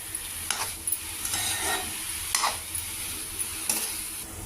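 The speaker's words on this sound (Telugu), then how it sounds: "అన్నీ ఫ్రై అయ్యాయి." Banana stem curry ingredients sizzle softly in a pan while a spoon scrapes and stirs them in a few distinct strokes, heard up close and fairly quiet over a constant frying hiss.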